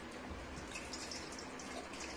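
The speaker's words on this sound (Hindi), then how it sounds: "अब थोड़ा फ्रेश वाटर डाल दीजिए।" Fresh water being poured into a dog's food bowl, a steady soft trickle and splash heard close up and alone, quiet and continuous throughout.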